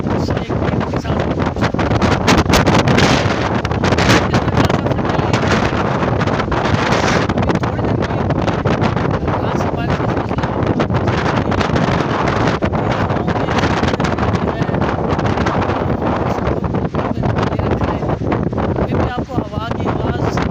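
A strong mountain wind in the Murree hills gusts and buffets the microphone continuously, a loud rushing roar with rustling texture that holds steady across the whole stretch.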